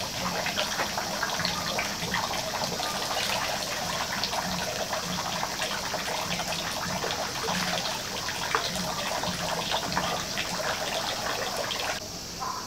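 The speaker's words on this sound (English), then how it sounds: "The water, the cold water." Cold water pours and splashes at a shrine in a continuous, even rush that stays at the same level throughout, with no voices.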